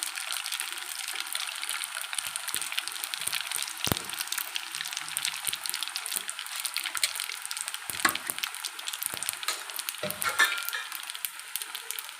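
Prawn and oats mixture frying in a pan gives a steady, moderately loud sizzling hiss throughout, with occasional soft scrapes and knocks as the pieces are stirred and turned.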